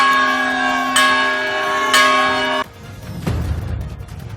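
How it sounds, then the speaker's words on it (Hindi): A large temple bell at the Ram Janmabhoomi site is struck several times, each strike sustaining a rich ringing hum before the sound cuts to a lower rumbling clang. "राम जन्मभूमि परिसर में रामलला के अस्थायी मंदिर के लिए एक अनोखा घंटा भेंट किया गया है, जिसकी आवाज 10 किलोमीटर दूर तक सुनाई देगी।"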